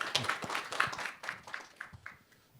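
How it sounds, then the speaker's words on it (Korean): A seminar audience on hydrogen and nuclear energy policy gives a short round of applause, a handful of scattered, fairly soft claps that thin out over a couple of seconds. "박수 한번 치고 시작하도록 하겠습니다"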